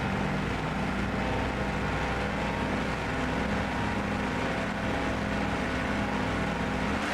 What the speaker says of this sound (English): Engines revving, waiting for green.